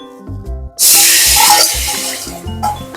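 Water gushes from a kitchen tap into a bowl of leftover spice paste for a bhindi curry, a loud close rush that starts suddenly and runs for a couple of seconds, alongside soft background music.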